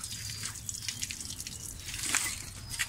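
Coolant water drains from a Mitsubishi Lancer radiator, a steady close trickle and splatter of liquid with occasional drips, continuous over a few seconds without talk.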